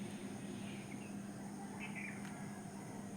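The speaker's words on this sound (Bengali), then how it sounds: "অসংখ্য পাখির ডাকে ভোর হচ্ছে," Many birds chirp and call at dawn among dew-wet trees, faint scattered tweets over a steady background drone of insects or crickets, with no talking.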